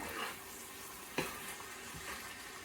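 Gallo pinto sizzles quietly in a pan while a utensil stirs and scrapes through it, with one sharper clink of the spoon against the pan partway through and no talking.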